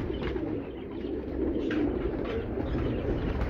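Pure-bred Amritsar pigeons kept in cages in a Karachi loft coo continuously, a dense overlapping low murmur of many birds close by, moderately loud with no talk.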